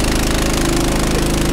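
A Honda engine drives a farm water pump, a loud, close, steady mechanical drone with a fast rhythmic chugging pulse that holds constant throughout.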